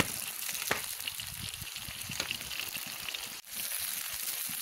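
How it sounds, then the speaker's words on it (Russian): Meat browns in oil with golden onions in a pot over an open campfire for Uzbek plov, a soft, steady crackling sizzle with scattered pops, fairly faint, and no one talking. "И вот в этой красоте мы обжариваем мясо."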